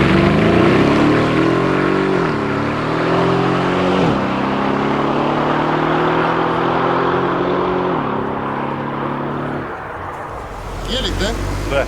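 Mercedes G63 AMG drag-race launch against a rival SUV: loud engines roar and climb in pitch through several gear shifts, fading slightly near the end, while people talk over the noise.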